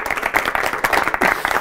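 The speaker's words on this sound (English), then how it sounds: "Big applause for him. Big applause." Audience at a live magic show breaking into loud, sustained applause, dense overlapping clapping filling the room for the whole moment.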